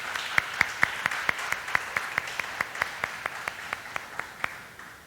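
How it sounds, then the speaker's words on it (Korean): A church congregation at a teachers' dedication service claps in unison, a steady, evenly spaced beat of sharp, loud claps repeating about five times a second before easing off at the end. "우리 교사들을 격려하면서 박수를 한번 쳐드립시다."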